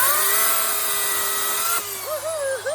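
A chainsaw cuts a tree branch near the knot. A loud, steady engine whine holds, then wavers and dips in pitch as the blade bites into the wood.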